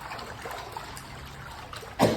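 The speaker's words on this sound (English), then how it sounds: "we put the pulp into the strainer and mixing it well with water." Paper pulp made from elephant dung being mixed with water in a strainer: a low, continuous trickle and slosh, ending in a sudden louder splash nearby.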